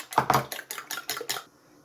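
Two eggs beaten by hand in a bowl for a traditional cornmeal and cabbage pispili batter, a quick run of about seven close, sharp clinking strokes of utensil against the bowl, alone with no talk.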